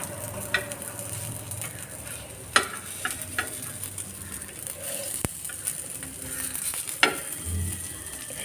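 Potato snacks frying in hot oil, sizzling steadily while a utensil stirs and turns them with occasional scraping clinks, close by, with no speech.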